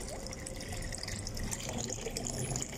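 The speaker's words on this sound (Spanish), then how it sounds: "Vamos a ponerle poquita agua" Water pours steadily into an animal tank with young animals, a continuous splashing trickle close by with no talk over it.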